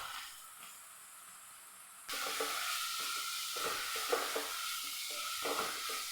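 Garam masala, turmeric and chicken masala sautéing in a pan, a soft hiss that jumps to a loud, steady sizzle after two seconds, with scraping stirs and light clinks over the top; no talking.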